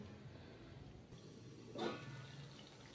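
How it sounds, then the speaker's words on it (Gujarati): Half a glass of water poured into a simmering brinjal, potato and tomato curry in a pan: a short, soft splash about two-thirds of the way through, over low background hiss. "તો આપણે એમાં પાણી એડ કરશું અડધો ગ્લાસ"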